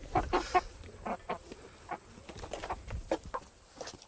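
A chicken clucks close by in short, irregular bursts. Several quick notes cluster near the start, then sparser clucks follow over a quiet background.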